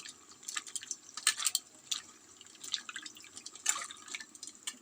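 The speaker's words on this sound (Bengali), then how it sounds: "একটু বেশি করে জল দিয়ে আমি এগুলোকে চুবিয়ে চুবিয়ে ধুচ্ছি" Leafy stalk vegetables dipped and swished by hand in a generous basin of water to wash off grit, giving soft, irregular drips and splashes close by, with no talk.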